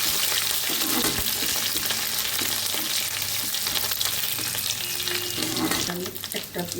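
Chopped garlic sizzles and fries steadily in a hot pan of oil for Bengali ghugni, a loud continuous crackle with faint stirring, no talking.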